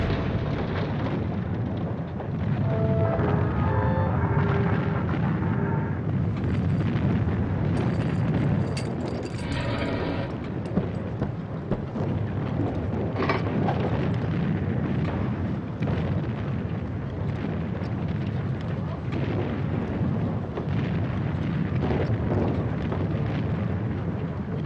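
World War I artillery guns shoot while shells explode on a battlefield, producing continuous dense rumbling blasts and booms that go on for the whole stretch with no voices.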